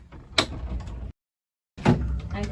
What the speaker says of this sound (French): Un grand tiroir.